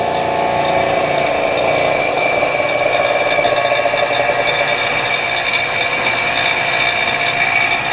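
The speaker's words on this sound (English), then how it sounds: "we're putting it in the casting machine, which is a argon atmosphere vacuum caster, and he's heating up the metal" An argon-atmosphere vacuum casting machine heats metal for jewelry casting, giving a steady, loud mechanical hum and whir with a faint rattle throughout, and no voices.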